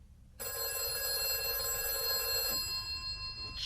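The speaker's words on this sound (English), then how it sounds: "The phone rang at 6:30." Telephone bell ringing in a radio-style murder mystery drama, a steady electric ring sounding continuously and fairly close, then cutting off near the end.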